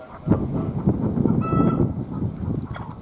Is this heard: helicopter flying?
no